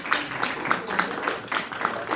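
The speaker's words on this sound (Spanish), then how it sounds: "Un aplauso," Audience applause at the closing of a university techno-anthropology forum: a short burst of clapping with several distinct, fairly regular claps heard close by, lasting about two seconds.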